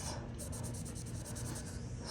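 Felt-tip marker scratching across bleeding tissue paper, a steady run of quick, close strokes with a dry rhythmic rasp throughout, heard alone.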